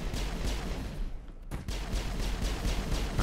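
Enemy gunfire in a firefight from the video game Mass Effect 1, rapid bursts of shots that pause briefly in the middle before resuming, loud and close.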